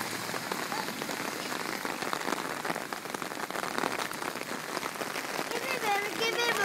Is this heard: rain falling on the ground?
yes